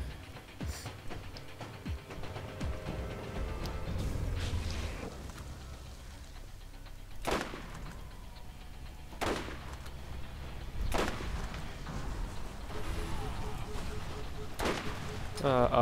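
Gunfire in Borderlands during co-op play: a continuous stream of shots with sharp, louder cracks standing out at intervals, sustained over a busy, rumbling game soundscape.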